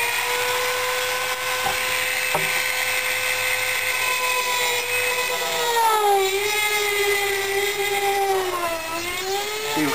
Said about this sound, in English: Just turn the speed up on the Dremel a bit.